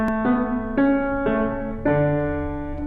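Piano playing left-hand notes from the Allemande of Bach's French Suite No. 5 in staccato, a few clear separated notes struck one after another in a slow, even rhythm, close and alone.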